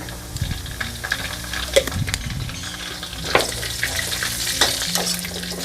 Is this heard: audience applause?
no